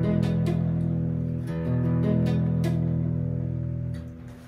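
Acoustic guitar strumming an open chord with several strings muted, giving a dull, choked sustain under a few sharp pick attacks, close and fairly loud with no talking.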